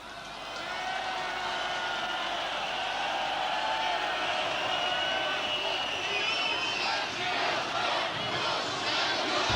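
Large crowd on Kyiv's Maidan chanting in 2005, a loud, sustained mass of voices roaring and shouting together, swelling and holding steady over several seconds.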